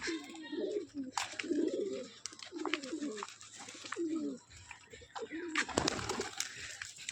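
Rajshahi Giribaz pigeons coo repeatedly in low, throaty bursts, close by, with a soft background hum and occasional rustles and clicks.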